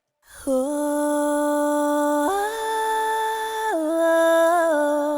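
A sustained sung vocal steps abruptly between pitches with an unnatural, mechanical quality, sitting loud and upfront over a quiet instrumental backing.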